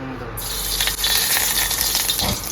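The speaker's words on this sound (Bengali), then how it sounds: "আগে ডিমটা ভেজে নি" An egg is dropped into hot oil in a wok, and a loud hiss breaks out abruptly and keeps sizzling strongly to the end, with no talking.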